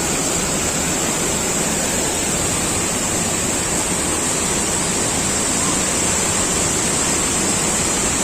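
Waterfall at Lubuak Kudo or Lubuk Tampuruang, a dense, continuous roar of falling water filling the whole clip, close and loud with no break.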